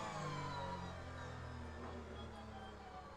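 A race car's hybrid regeneration system whines under braking in a sim racing game, heard as a steady, sustained electric tone blended with engine drone, continuous and fairly faint throughout.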